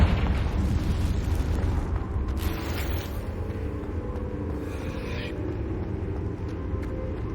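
A Confringo fire-blast spell explodes in Hogwarts Legacy, giving a loud, sustained rumbling boom with crackling bursts that keeps roaring steadily for several seconds.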